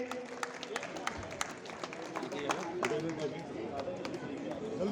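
An audience at a Holi event claps to welcome guests, a dense patter of many hands close and continuous, heard under someone talking over a microphone.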